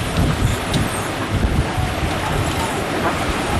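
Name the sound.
wind at sea aboard a sailboat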